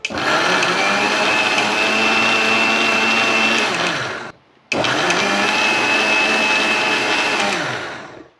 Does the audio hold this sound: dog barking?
no